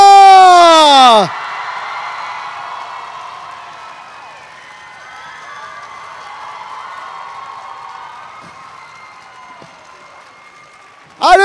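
Audience applause and cheering at a Toulouse Game Show 2021 convention stage, welcoming an actor: a sustained, loud wash of clapping and crowd noise that holds steady for several seconds, with a voice briefly at the start and end.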